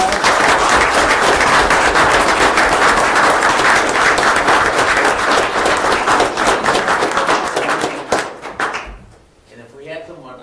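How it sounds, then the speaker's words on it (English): A city council meeting audience applauds Sergeant Myers, loud sustained clapping from a roomful of people that thins out and stops near the end, followed by a brief voice. "I think we just need to give Sergeant Myers a big round of applause."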